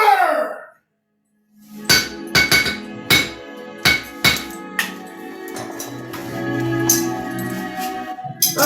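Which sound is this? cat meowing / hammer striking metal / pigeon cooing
hammer striking metal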